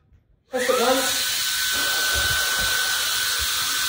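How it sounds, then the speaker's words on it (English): A small handheld vacuum switches on abruptly after a brief quiet moment and runs with a steady high whine and hiss until the end, picking up coffee crumbs. "now I just pick up my little vacuum cleaner and get these coffee crumbs"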